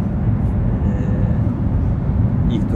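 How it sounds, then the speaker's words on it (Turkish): Steady low roar of an airliner cabin in flight, about half an hour after takeoff on a domestic trip to Hatay, a constant dense rumble filling the space with no breaks and no talking. "Şu an uçaktayım."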